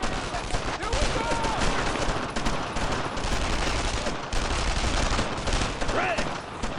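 Dense gunfire rattles in a World War II battle in the Brothers In Arms: Road to Hill 30 video game, with continuous loud bursts of rifles and machine guns layered over shouting soldiers.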